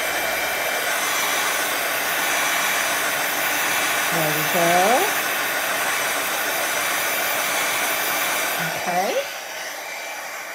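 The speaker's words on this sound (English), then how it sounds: "with my heat gun." A handheld heat gun blows steadily over wet watercolor paint, a constant loud airy whir filling the whole stretch, with brief spoken remarks over it and a slight change in tone near the end.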